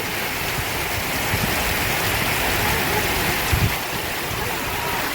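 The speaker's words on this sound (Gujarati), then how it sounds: "બનાસકાંઠાની અંદર રાજકોટ ગામમાં ભારે વરસાદ ચાલુ થઈ ગયો છે" Heavy rain pours down in Rajakot village, Banaskantha, a dense, unbroken hiss that holds steady throughout with a few faint knocks beneath it.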